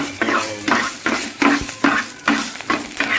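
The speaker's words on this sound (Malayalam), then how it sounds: "എണ്ണ ചൂടായി വരുമ്പോൾ അതിലേക്ക് കടുക് ഇട്ട് കൊടുക്കുക" Mustard seeds sizzling and crackling in hot oil with dried red chillies in a pan, with repeated scraping stirs, loud and close, in a steady rhythm of several strokes.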